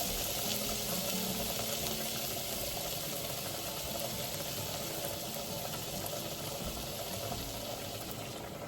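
Tap water pours steadily into a pot while beef is being cooked in a home kitchen, a continuous faint hiss and splash with no talking over it.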